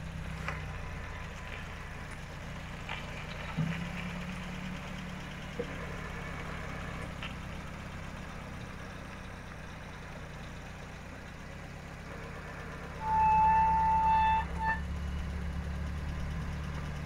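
A Citroen DS idles faintly at a steady low rumble over quiet surroundings, with a few small clicks and a brief high whine and louder burst near the end.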